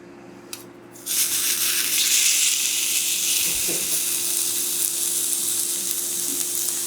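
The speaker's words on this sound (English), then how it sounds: "You can hear it sizzling" A loud, steady sizzle of a burger frying in a hot pan, continuous and close, after a brief clatter at the start.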